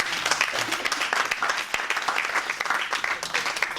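Church congregation at a thanksgiving service applauding the Lord, a dense, steady wash of many hands clapping for nearly four seconds, loud and continuous with no talk over it.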